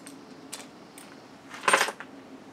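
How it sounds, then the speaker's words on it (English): A set of Ford Mustang car keys jangles close by in a few short metallic bursts, the loudest near the end, with no talk. "So the first thing I see is my keys."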